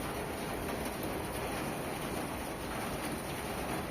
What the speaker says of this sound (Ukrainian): Хотілося б, щоб цей дощик якомога довше був.